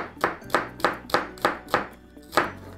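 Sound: chopping vegetables with a knife

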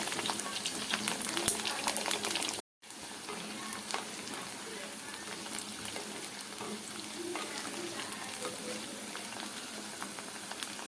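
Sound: drumstick pieces frying in oil

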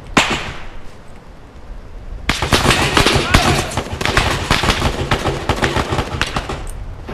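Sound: gunshots from a shooter in a building

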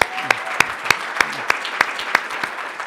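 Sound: audience applause at a conference

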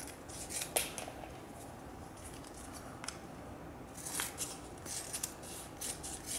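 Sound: cutting kinesiology tape strip with scissors

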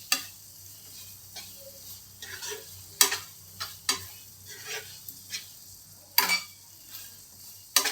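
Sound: stirring cardamom powder into carrot halwa

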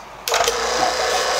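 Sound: vacuum pump running on car AC system

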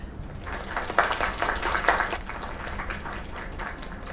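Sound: applause in the video game Lake

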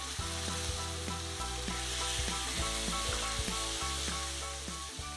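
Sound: lapsi (hog plum) frying and being stirred with turmeric

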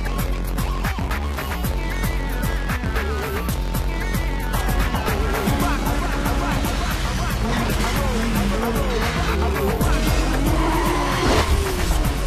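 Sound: car skidding and knocking over a sign in Need for Speed Most Wanted video game

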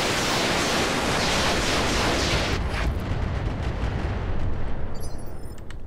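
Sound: weapon firing in a video game battle

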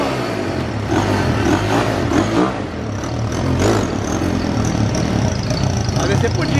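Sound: Honda CG 150 motorcycle with Falcon 400 throttle body idling

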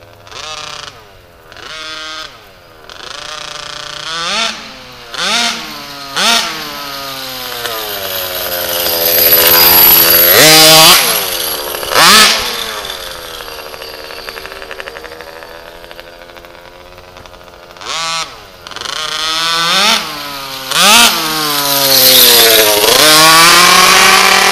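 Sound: HPI Baja RC car RCMAX 90GT engine running, break-in

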